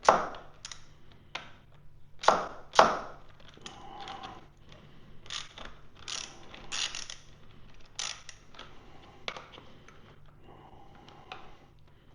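Metal clicks and ratcheting taps from a wrench tightening a bolt on Acerbis Rally Brush hand guards being fitted to an MT450 motorcycle, close and intermittent, with a few sharper knocks and quiet workshop hum between.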